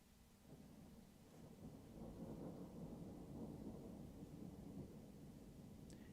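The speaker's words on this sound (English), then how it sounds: "If you're hearing a storm in the background, it's because we've got some rain coming in and out of where I live at." Distant thunderstorm with rain falling outside a home, a faint low rumble of thunder rolling and swelling over steady soft rain hiss, heard quietly in the background with no talking.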